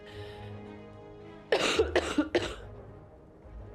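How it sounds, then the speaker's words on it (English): A man gives a burst of four or five harsh, close coughs in quick succession after a stretch of quiet background sound. "My coughing has gotten so bad."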